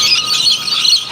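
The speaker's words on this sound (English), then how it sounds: "a cockie's screech can get on your nerves" Harsh, shrill cockatoo screeching fills the moment, loud and continuous, with no pauses.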